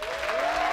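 Brief burst of audience applause at a conference on inclusion, dense steady clapping at moderate level with no speech over it.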